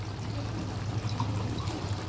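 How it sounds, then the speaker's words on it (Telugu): Water tipped from a tomato jar into a simmering chicken curry, a steady close trickling pour running the whole stretch over a low kitchen hum, with no one talking. "టమాటా జార్లతో వాటర్ వేసేస్తాను"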